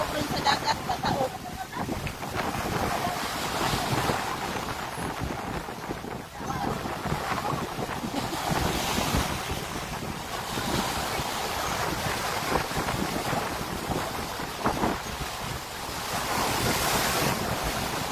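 Sea waves surge onto a beach at Himoaw, Hilongos, Leyte under gusting wind, a steady roar with swells rising and falling throughout, while someone talks intermittently over the noise.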